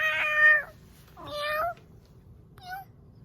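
A person mimics a kitty cat's meow, three separate meows that get shorter and fainter, close up with no other sound.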